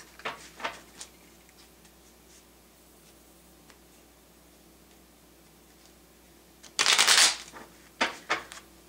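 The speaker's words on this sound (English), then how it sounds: "And three shuffles." Tarot cards being shuffled: a few crisp riffles early on, a quiet pause, then a louder, longer riffle followed by several quick snaps.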